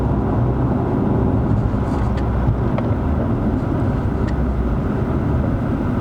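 Infiniti Q50 2.0T GT engine blipping the throttle on a manual-mode downshift, heard from inside the cabin as a steady close drone with road and wind noise and a brief rise in revs.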